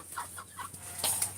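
Backyard chickens cluck in short, irregular bursts at moderate distance, with a faint steady hum underneath.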